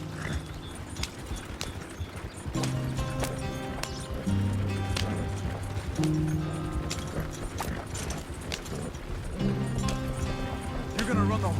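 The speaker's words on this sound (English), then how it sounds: "You're gonna run the horses to death" Horses galloping in Red Dead Redemption 2, a steady clip-clop of hooves with mechanical rattling running under game music, while voices talk over it throughout.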